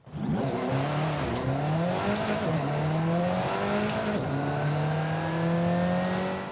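An Alfa Romeo 4C sports car engine, 1.8 litre, in the video game Forza Horizon 5, revs continuously and loudly, climbing through gears with rising and falling pitch, a sustained high-energy whine with no pauses.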